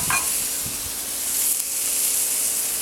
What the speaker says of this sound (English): We're going to put it on the grill. Love to hear that sizzle, don't you?